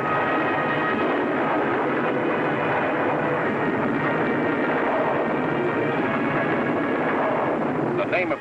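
Engines of a World War II B-17 bomber drone in a loud, continuous, rumbling roar that holds steady for several seconds before a brief dip at the end.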